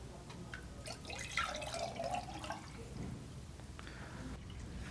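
Liquid pottery glaze pours into the inside of a ceramic piece, a soft trickling and splashing that swells and fades over a few seconds, fairly quiet and close with no speech.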